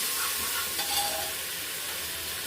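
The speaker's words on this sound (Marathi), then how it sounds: "आता एक चमचा भरून आपल्याला इथे आलं लसूण पेस्ट वापरायचे" Ginger garlic paste frying with spices in oil, giving a steady, close sizzling hiss with a brief brighter flare near the middle and no speech.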